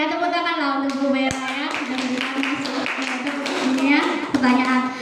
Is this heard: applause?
yes